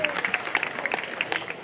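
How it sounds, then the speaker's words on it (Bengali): A brief burst of applause at an evening devotional gathering, with quick, scattered claps mixed with crowd voices. "Please give a big hand."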